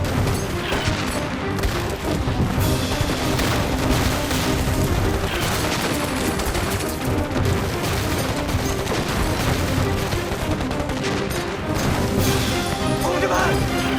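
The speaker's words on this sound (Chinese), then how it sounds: "多轰那几炮，轰完就走。" A heavy artillery barrage in a war film: dense, overlapping booms and crashing blasts roll continuously at high volume, with voices heard through the din.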